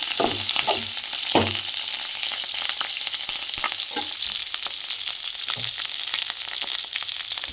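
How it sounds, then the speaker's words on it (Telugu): Green chillies fry and sizzle in a pan with a steady hiss, punctuated by scattered crackles and a few stirring clinks, with no talking. "ఇప్పుడు పచ్చిమిర్చి వేగినాయి కదా"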